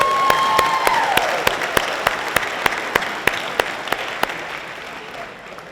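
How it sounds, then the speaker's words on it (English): Crowd applause at a Garden Grove State of the City event, sustained broad clapping with a regular pulse of sharp clicks running through it, fading slightly toward the end. "Huge round of applause for Johnny Ace Collins."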